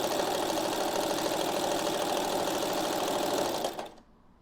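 A sewing machine stitches steadily over thick seams, giving a fast, even mechanical whir with rapid needle ticking that runs at constant loudness, then stops abruptly near the end.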